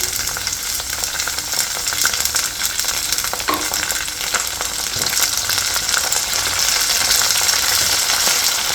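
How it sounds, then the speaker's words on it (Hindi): Potatoes and mogri (radish pods) sizzle in hot oil for a Rajasthani aloo mogri sabzi, a steady crackling fry with occasional spoon stirs and scrapes in the pan, close and continuous. "तो मोगरी भी थोड़ी सी इसके साथ फ्राई हो जाएगी हल्की सी।"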